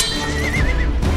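A horse whinnies loudly and close by, one short wavering neigh over a rough background of hoofbeats and rustling.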